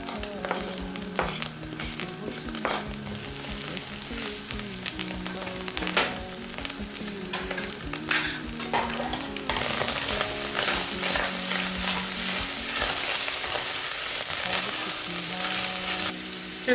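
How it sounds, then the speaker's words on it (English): Onions for a beef lasagne fry in a pan with a loud, continuous sizzle and crackle, broken by occasional stirring scrapes, and the hiss grows fuller partway through. "In goes our onions."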